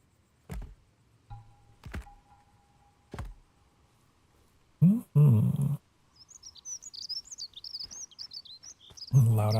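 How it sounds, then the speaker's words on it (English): A loud bird chirps in a rapid, warbling run of sharp high calls, close and prominent, following a few scattered taps and knocks. "Loud ass bird."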